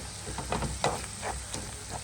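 Masala paste frying in a pan for prawn biryani, a steady close sizzle with a few brief louder crackles and stirring scrapes, no talking.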